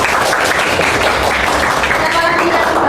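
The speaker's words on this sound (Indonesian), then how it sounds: "Silakan berdua kita tepuk tangannya." A classroom bursts into steady, close applause that lasts throughout, with voices mingling in the clapping.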